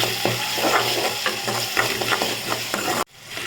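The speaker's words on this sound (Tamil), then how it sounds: "தக்காளி சேர்த்து நல்லா வதக்கிக்கோங்க தக்காளி வதங்கிறதுக்கு கொஞ்சமாக உப்பு சேர்த்து நல்லா வதக்கிக்கலாம்" Tomatoes sauté with a little salt in a pan for a drumstick stir-fry, a steady sizzle with rhythmic scraping from stirring, close, ending in an abrupt cut.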